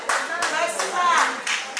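Wedding guests at a Cameroonian wedding celebration clap in a short burst of applause, close and lively, with bursts pausing briefly and voices mixed into the clapping.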